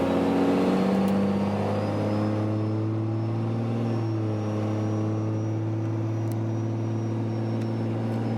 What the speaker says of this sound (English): So figure I'd give you guys a little acceleration.